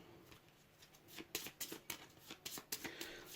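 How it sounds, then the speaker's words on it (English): A deck of cards from the board game Puzzle Dungeon is shuffled by hand, a quick series of crisp riffling flicks growing busier, close up and fairly quiet, with no talking. "So give that a shuffle."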